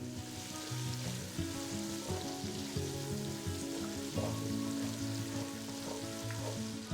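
Drumstick pieces frying in hot oil for sambar, a steady dense sizzle with bubbling and crackle, close and constant, with no voices.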